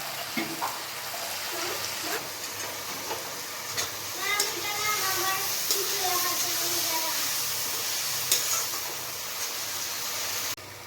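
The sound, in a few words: spice paste frying in pan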